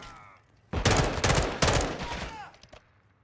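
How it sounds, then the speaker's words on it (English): Shotgun blasts in Modern Warfare 2, two loud, close, heavy booms about a second apart, each with a ragged tail, standing alone above a quieter game background. "two shots with the shotgun"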